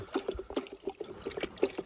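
A stick stirs baking soda into cold water, the liquid swirling and knocking softly in a quick, repeated rhythm of small splashy strokes, close by and fairly quiet.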